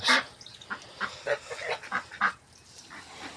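A series of short nasal quacks and honks from a crested duck, repeating irregularly at moderate distance, fairly soft, with no talking.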